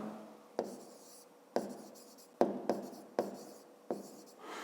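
Pen or chalk writing on a surface during a fifth-grade maths lesson, heard as six short scratchy strokes in irregular bursts, each starting with a sharp tap, close and fairly clear with no talking.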